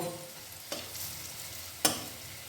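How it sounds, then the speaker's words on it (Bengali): Drumstick flower pakoras fry in hot oil with a constant soft sizzle, broken twice by sharp clatters as a utensil stirs and turns them. The sound is close and no one speaks. "পকোড়াগুলো কিন্তু দু পিঠই ভালো করে ভাজা হয়ে গেছে"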